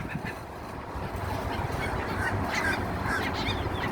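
Seagulls squawk in a feeding frenzy over a half-eaten chicken left outside a Walmart, with scattered cries over a dense, steady outdoor rumble.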